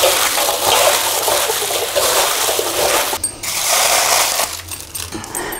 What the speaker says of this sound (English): I'm gonna rinse the onion skins before I put them in the dye pot